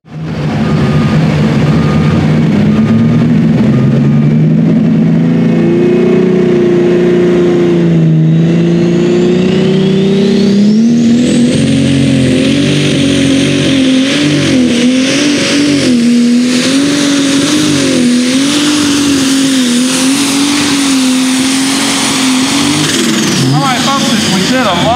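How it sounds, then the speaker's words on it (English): A lightweight super stock pulling tractor engine roars loudly and continuously through a pull at a Hopkinsville, Kentucky tractor pulling event, its pitch climbing and wavering as the load builds, with an announcer talking over it. "A lot more horsepower out of these lightweight super stock tractors than the light limited."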